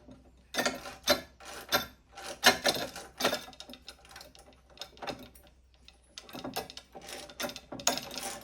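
A socket ratchet loosens bolts on a Delta scroll saw during teardown, giving bursts of quick metallic clicking and rasping strokes in uneven clusters, close and fairly quiet.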